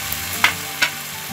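Chicken and capsicum stir-fry in a pan for chicken chilli, with a steady close sizzle broken by two sharp spatula scrapes less than half a second apart.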